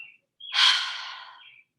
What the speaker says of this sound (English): One more time. Inhale and exhale.